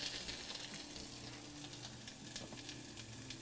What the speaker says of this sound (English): Really, really good sizzle sound.